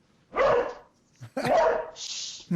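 A dog barks twice, close by and fairly loud, with a short pause between barks, during a talk show.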